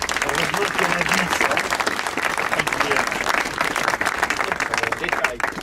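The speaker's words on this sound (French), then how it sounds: "je pense qu'on peut vous applaudir du fond du cœur pour votre esprit républicain" An audience at a French political office inauguration claps steadily throughout, dense, sustained applause from a modest crowd with voices mixed in.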